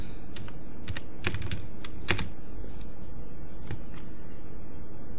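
Close, irregular bursts of keystrokes on a computer keyboard at a desk, clustered in quick runs with short pauses, while an op amp simulation is set up in LTspice; no one talks.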